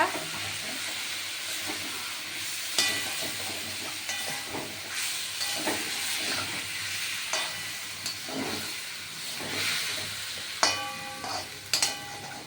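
Tomatoes tip into hot oil in a pan for a cauliflower and egg curry, giving a steady sizzle and hiss with scraping stir strokes and light clicks throughout, fairly close and with no talk.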